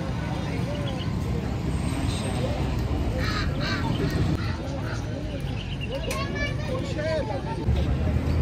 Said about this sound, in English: Let me show you different birds today in this bazaar.